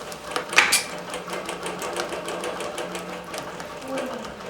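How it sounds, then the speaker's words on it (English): A computerized quilting sewing machine stitches along the sashing of a quilt with a rapid, even needle chatter that runs steadily throughout, close and moderately loud, with no talking. "now it's just going to stitch up into the sashing, or the border line"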